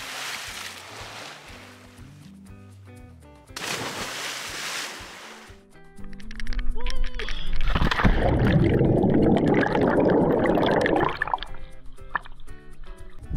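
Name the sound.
person jumping into lake water, splash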